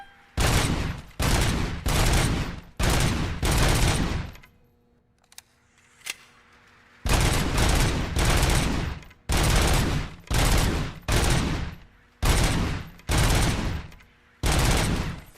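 Bursts of Glock pistol gunfire in the video game Robocop: Rogue City, a rapid string of loud shots followed by a short lull with a reload click, then more rapid volleys.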